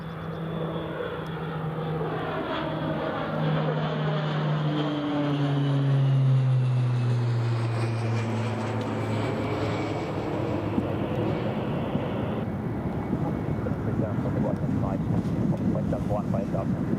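Jet2 airliner taxiing toward the holding point for runway 25 at Newcastle International Airport, a sustained engine whine and roar with slowly gliding pitch, moderately distant and steady, with a voice talking over it.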